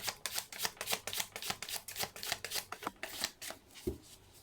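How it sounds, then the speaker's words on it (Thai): Tarot cards shuffled by hand close up, a fast, even run of crisp papery flicks and riffles that continues steadily before ending with a soft tap. "อาจารย์จะขอสับไพ่ให้กับชาวราศีพิจิกนะคะ"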